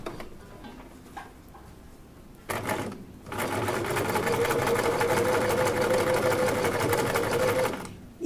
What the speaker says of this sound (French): nous allons faire les coutures standards de deux côtés